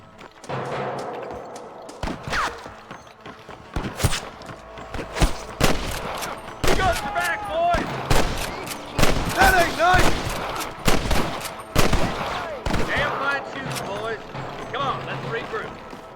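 Bursts of rapid gunfire and scattered single shots from the video game Red Dead Redemption crack through a busy battle soundscape, with voices shouting over the shooting.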